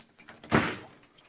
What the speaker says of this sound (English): Door frozen shut.